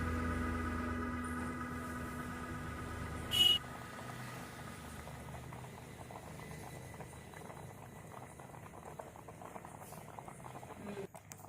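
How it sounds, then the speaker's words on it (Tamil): A pot of milk payasam bubbles at a low, steady simmer for several seconds, with a brief clink partway through and faint background hum. "நல்லா கொதித்து வரட்டும் அதுக்கப்புறம் முந்திரியை போட்டு இறக்கிடலாம்"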